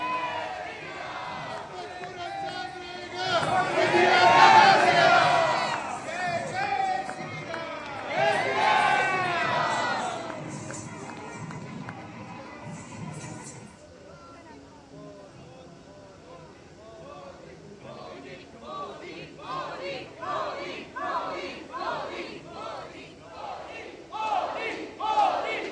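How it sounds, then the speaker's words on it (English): Indian diaspora crowd in Buenos Aires chanting Bharat Mata Ki Jai and Modi Modi in welcome, loud rhythmic group shouts swelling near the start, then fading before renewed rhythmic chanting returns. "the enthusiastic crowd who chanted Bharat Mata Ki Jai and Modi Modi to welcome him"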